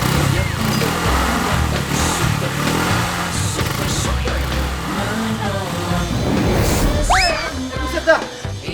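A motorcycle engine runs loud and rough at close range, mixed with clatter and other noise, while people talk and shout over it.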